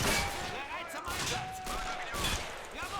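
Gunfire from a Men of War: Assault Squad 2 battle rattles in dense overlapping bursts, with distant cracks and booms filling the whole scene at a steady moderate level.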